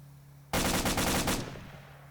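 Sudden loud burst of automatic gunfire in the Arma 2 military game, a rapid rattling volley of close shots lasting under a second, then a fading echoing tail.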